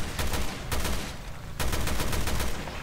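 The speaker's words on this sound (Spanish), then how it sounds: "Tendremos que usar la ametralladora." Machine gun fire in the survival horror game Resident Evil Revelations 2, loud sustained bursts of rapid shots broken by a short pause, close and dense with no talking.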